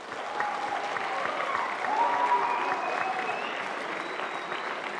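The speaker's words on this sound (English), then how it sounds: "Could y'all give them a round of applause?" Applause for students at a biomedical engineering STEM showcase, a steady room-filling clatter of many hands that swells slightly midway and holds for about five seconds, with faint crowd murmur beneath.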